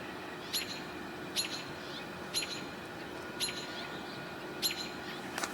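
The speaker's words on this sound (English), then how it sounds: "we're hearing house finches also" House finches sing outdoors in brief, bright chirping bursts that repeat about once a second, faint and somewhat distant over a soft steady background hiss.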